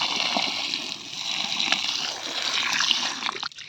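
Water is poured at the base of vegetable plants such as brinjal in a village garden, a close splashing trickle that runs nearly continuously before cutting off at the end.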